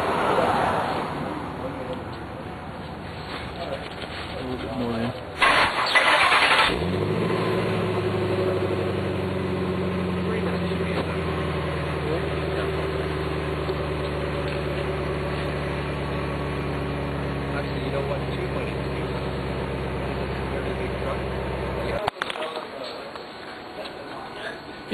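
A Ryden gas engine on test starts up, then settles into a steady, droning idle that runs for some twenty seconds at moderate loudness before cutting off near the end.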